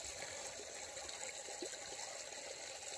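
Creek water surges and trickles steadily through a ram pump fitted with an inner-tube bladder, a faint, continuous wash of flowing water with no voices.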